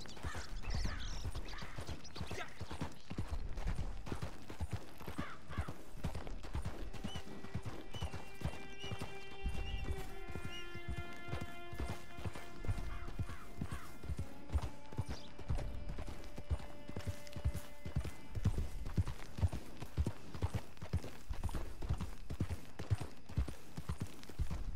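Rapid, rhythmic hoofbeats of a galloping horse in Red Dead Online run continuously, with a horse's whinny rising partway through over a low background.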